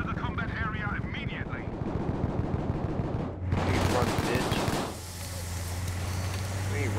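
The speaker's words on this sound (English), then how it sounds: "Yeah, I'm shooting at him right" Video game gunfire in a multiplayer shooter, dense rapid bursts mixed with engine-like rumble and a sustained roaring passage, loud and continuous throughout.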